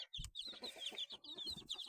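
Chicks clucking and peeping nearby, a quick run of repeated high chirps with soft lower clucks in between, faint but clear and with no speech over it.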